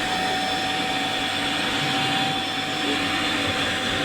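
A household vacuum cleaner runs steadily and loudly close by, a continuous broadband whoosh with a thin high whine, holding level throughout with no voices over it.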